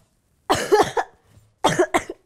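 A sick person gives two quick bursts of harsh, close coughing, a brief pause and a faint throat sound between them.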